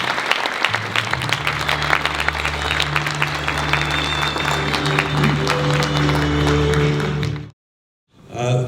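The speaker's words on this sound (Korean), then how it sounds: "큰 박수로 축하해 주시기 바랍니다" An audience at a tenth-anniversary commemorative ceremony bursts into sustained applause, a dense wash of many hands clapping for several seconds, loud and steady, before cutting off abruptly into silence.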